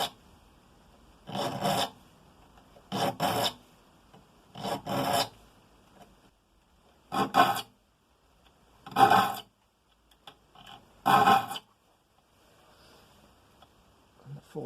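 Hand saw teeth being sharpened with a file, including fine 14 TPI teeth: six distinct bursts of rasping strokes, each lasting about a second, separated by short pauses, close and clear with no talking.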